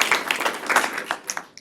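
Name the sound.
audience applause for speaker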